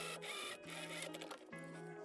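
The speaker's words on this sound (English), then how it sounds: "So 5 millimeters next to that seam, I am going to top stitch and fix the seam allowance in place." A sewing machine runs a line of topstitching along a dress seam, a steady quiet whir with brief pauses and restarts, close and alone.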